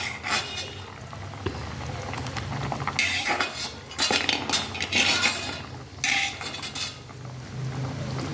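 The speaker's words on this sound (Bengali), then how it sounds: "এই দেখো জোরে করে দিয়ে গেছিলাম, জলটা ফুটে গেছে ঝোলটা।" A pot of fish curry broth on a high gas flame, with bursts of utensil clatter and stirring against the metal over a low bubbling simmer.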